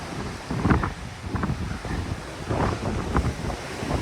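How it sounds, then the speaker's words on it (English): A gale-force wind roars at a waterfall in Royal National Park, New South Wales, buffeting the microphone in heavy rumbling gusts that swell and fade across the whole stretch, with a rushing, surf-like wash beneath. "It just shows you the extent of the wind velocity that we got out here at the moment. It's blowing an absolute gale."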